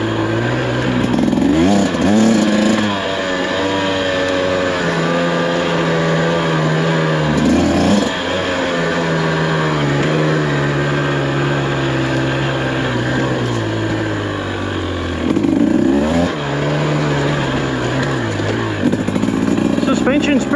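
A brand new 2024 Husqvarna TE300 dirt bike rides on mountain trails with a buzzing two-stroke engine. The revs rise, then fall and hold back under engine braking, in repeated surges. A rider talks throughout.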